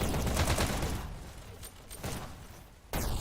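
Pistol shots crackle in a fast Hyper Dash VR match, a dense run of gunfire at moderate level that thins out before a sharp burst returns at the end.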